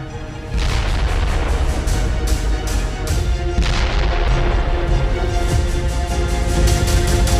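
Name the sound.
explosions from a drone attack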